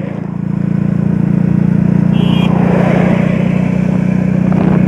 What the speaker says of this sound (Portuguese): Agora vou para a terceira marcha